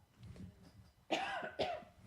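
A man with a sore throat and tooth pain coughs during a Korean church sermon, first a soft muffled throat sound, then two sharp, harsh coughs close to the microphone, with no talking.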